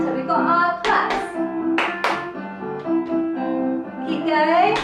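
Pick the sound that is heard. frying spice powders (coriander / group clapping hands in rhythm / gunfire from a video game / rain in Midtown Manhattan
group clapping hands in rhythm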